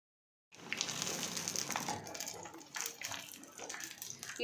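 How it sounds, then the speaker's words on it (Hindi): Paneer patties for a homemade spicy burger fry in hot oil over a full flame, giving a close, continuous crackling sizzle with bursts of spattering. "मैंने ऑयल गर्म करने रख दिया है और अब मैं इनको फ्राई कर लूँगी।"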